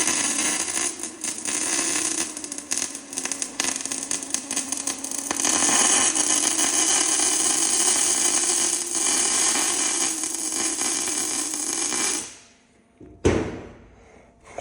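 A Lincoln electric welder lays a bead in a workshop, giving a steady, loud crackling sizzle that runs for about twelve seconds before cutting off, followed by a brief clunk.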